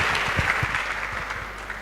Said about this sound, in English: Let's give our VC some rounds of applause once again